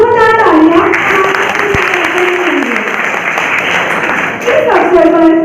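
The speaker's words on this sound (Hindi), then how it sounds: "जोरदार तालियां" Loud, sustained applause from a seminar audience at Hindu College Moradabad as a guest is invited to offer flowers before Saraswati, with a voice and tonal sound running over it.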